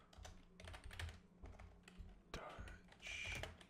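Rapid, uneven clatter of keys on a computer keyboard, typed in bursts with short pauses, close and fairly quiet.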